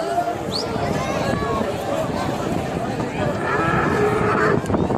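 A cow moos during a toro piscine bullring game with a pool in Quissac, its calls rising over a lively crowd with people talking and shouting throughout.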